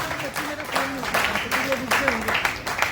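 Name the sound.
audience applause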